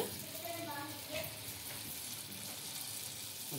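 Mysore bonda batter fries in hot oil, a dense, steady sizzle and crackle that fills the whole moment, close and continuous with faint clinks underneath.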